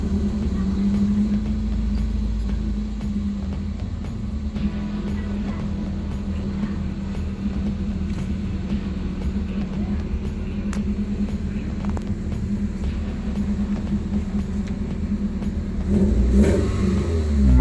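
A Toyota RAV4 engine, fitted with a new ignition coil to fix a rough, misfiring idle, runs steadily close by with a constant low hum and a slight rise in revs near the end.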